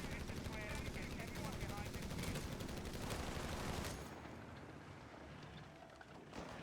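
Gunfire from a Company of Heroes 3 battle, with bazookas, a jeep, BAR rifles and assault grenadiers fighting, crackles as dense, continuous small-arms and machine-gun fire that eases slightly after four seconds and keeps going under a steady din.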